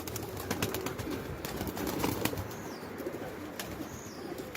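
Pigeons coo and shuffle against a steady outdoor background, faint low calls running through the whole stretch with occasional brief sharper sounds, no voices.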